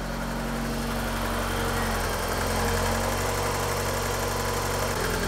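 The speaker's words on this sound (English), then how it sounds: "she's finally idling on its own." A BMW E30 engine, a barn find being brought back to the road, idles steadily on its own with a constant low rumble and slight mechanical knock, close up and without speech.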